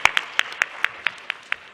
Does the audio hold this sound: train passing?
no